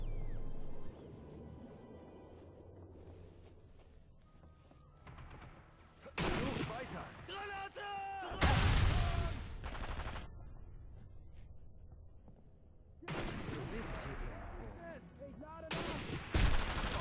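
Gunfire in the video game Sniper Elite V2 comes in loud, sharp bursts and volleys separated by quieter stretches of low rumbling ambience, with the heaviest firing near the middle and end.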